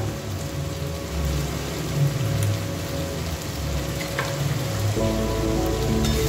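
Tomato, ginger paste and cumin-coriander paste sauté in a pan with a steady, close sizzling hiss that runs throughout, partly under background music.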